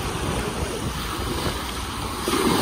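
Ocean surf rolls in at Miami Beach, a steady wash of waves blended with wind buffeting the microphone.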